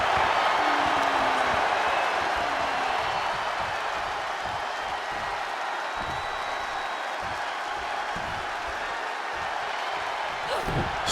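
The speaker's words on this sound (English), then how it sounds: "What a raucous crowd here tonight" Raucous wrestling arena crowd in WWE 2K26, a steady loud roar of cheering and applause with occasional rising shouts and thumps, sustained throughout.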